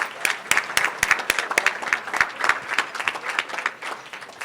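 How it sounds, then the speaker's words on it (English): An audience at a broadband conference panel claps in a lively burst of sharp, dense hand claps that carries on throughout, close and fairly loud. "So let's give a big round of applause to Gaby and this panel"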